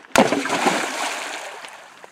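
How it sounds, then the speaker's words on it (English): An object dropped into water in an abandoned quarry lands with a sharp, close splash followed by about two seconds of sloshing and dripping that fades away. "How big do you reckon the splash will be?"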